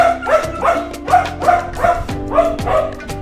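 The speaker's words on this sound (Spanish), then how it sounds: "Un perro muy grande, es muy buen guardián, pero es un perro bueno." A very large shelter guard dog barks in a steady run of loud, close woofs and yips, roughly every half second, with no talk over it.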